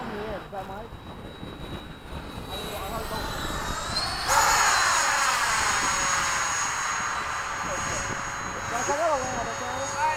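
A Freewing RC model jet, an F-22 or F-14 with a 90mm or 80mm ducted fan, whooshes past at an RC flying event, its whine swelling sharply midway then fading, with people talking over it.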